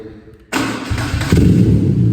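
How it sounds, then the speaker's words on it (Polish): Quiet at first, then a BMW R12 nineT motorcycle engine abruptly starts and settles into a loud, rumbling idle that swells slightly partway through. "Przekręcam kluczyk, Klikamy sobie zaraz zapłon."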